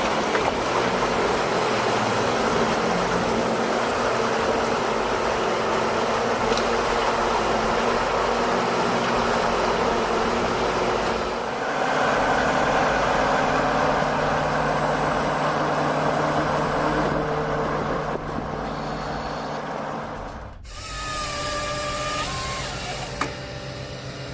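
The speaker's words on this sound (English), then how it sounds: "The Nisula 555C working seamlessly with a Volvo 145 excavator mounted" A Volvo 145 excavator runs a Nisula 555C harvester head in a steady, loud mechanical roar that holds for about twenty seconds, then briefly shifts and drops near the end.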